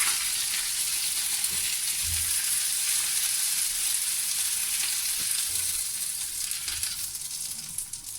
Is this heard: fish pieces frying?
yes